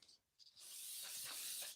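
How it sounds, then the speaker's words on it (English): Brake cleaner hisses from an aerosol can onto brass casings in a steady, fairly close spray after a couple of short preliminary bursts, with no talking. "And I'll literally spray this down"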